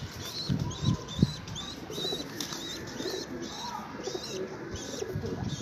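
Soft cooing from an old breeder pigeon with a few bursts of wing flapping close by, over a busy background of other birds chirping.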